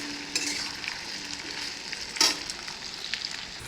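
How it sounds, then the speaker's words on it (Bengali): Potato and pumpkin pieces frying in a pan of oil, a soft, steady sizzle with one brief louder scrape partway through. "আলুটার কুমড়োটা একটু ভেজে নিলাম।"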